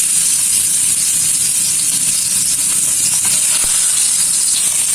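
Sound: fish frying in hot soybean oil

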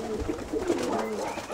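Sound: pigeons cooing

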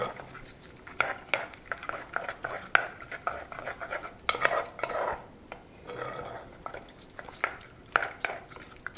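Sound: stirring Ugadi pachadi ingredients together in a bowl

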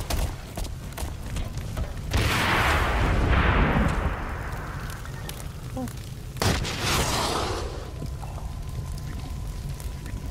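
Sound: fireworks exploding in the video game Blacklight

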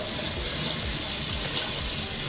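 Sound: water running from a sink tap

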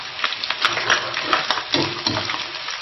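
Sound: stir-frying duck with ginger and scallion in a wok

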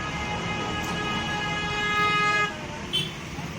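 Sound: road traffic with honking on the way to the market

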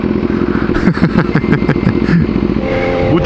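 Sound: motorcycle riding

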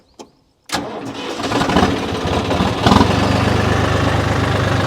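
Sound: John Deere tractor engine with 10-foot rotavator

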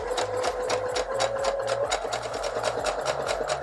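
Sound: sewing machine sewing a straight seam

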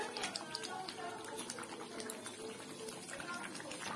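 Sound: potatoes being sautéed in oil in a pan

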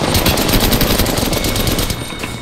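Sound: gunfire in a video game

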